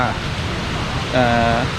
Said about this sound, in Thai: ฝนตกด้วยครับ